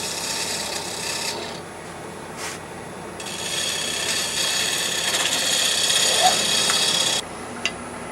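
A sharp gouge cutting a wooden bowl on a lathe, bevel riding the wood, produces a steady close rasping scrape that continues throughout with brief dips in intensity.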